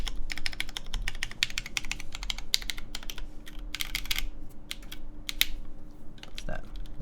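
Fast, crisp typing on a Tech Bear TB8-TKL mechanical keyboard fitted with tactile switches, dense clacking bursts up close with brief pauses and faint talk in the background.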